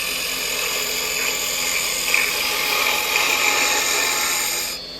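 A roughing gouge cuts wood spinning on a lathe, a continuous bright whirring hiss with rough scraping texture that holds steady, then eases off near the end.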